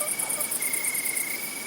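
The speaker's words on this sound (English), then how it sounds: "the crickets begin to sing." Crickets chirping at sunset, a continuous high pulsing trill with a second steady insect tone, fairly close and alone without talk.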